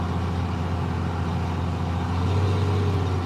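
A brand-new diesel truck engine runs steadily nearby, a constant low rumble with a slight swell in loudness toward the end, with no talk over it.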